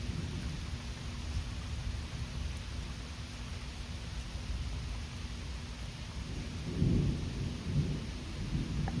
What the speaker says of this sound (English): Just a bit of rain and a breeze. And thunder.